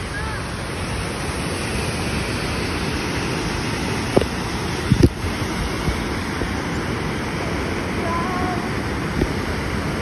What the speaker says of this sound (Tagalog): Ito yung main falls.